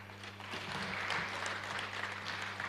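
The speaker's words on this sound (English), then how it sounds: "Can we have a round of applause for all the participants, including the winners?" An audience applauding participants and winners of a cleanest and greenest municipality competition, with steady continuous clapping heard faint and distant over a low electrical hum.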